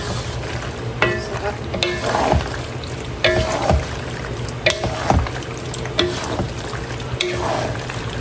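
Homemade fishballs frying in a pan while being stirred, steady close sizzling with repeated scraping strokes of the spatula at a roughly regular pace, no talking.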